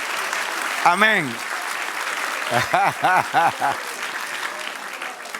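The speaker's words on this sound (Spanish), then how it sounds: "Dale un aplauso al Señor." Steady applause from a church congregation runs throughout, with a voice calling out in the room and a few sung or chanted vocal phrases rising over the clapping.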